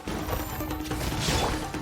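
A shattering break effect from the video game Genshin Impact, a dense crash with a mechanical, ratcheting clatter that fills nearly two seconds at steady loudness, with no talking.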